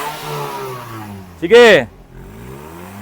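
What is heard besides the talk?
damaged Toyota Vios engine being revved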